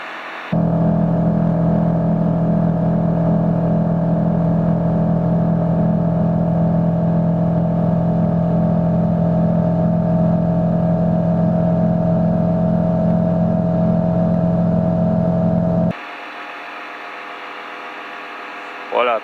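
A P300 ultralight aircraft engine runs steady and loud through a climb, a constant droning hum with a strong low tone for about sixteen seconds before it cuts back sharply to a quieter idle.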